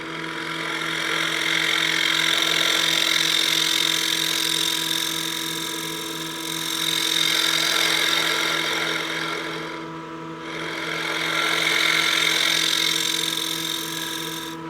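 A wood lathe spins a turned utility box while a scraper shapes the final contour, producing a steady mechanical hum with a high cutting hiss that swells and eases in several passes, briefly dropping out near the end.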